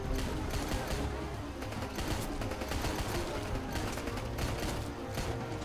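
Continuous automatic gunfire in Rambo The Game, dense and loud without a break, with someone talking over the shooting.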